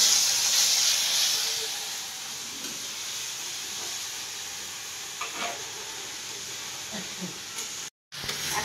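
Chicken kosha fries in a pan with a loud, continuous sizzling hiss, faint stirring scrapes, and a brief cutoff near the end.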